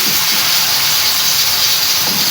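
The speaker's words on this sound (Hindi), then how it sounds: "इसको भून लेते हैं, थोड़ा सा पानी का लगाते हैं छट्टा" Water splashed into spices frying in a pan with chilli and turmeric, giving a loud, steady, close sizzling hiss that fills the whole moment.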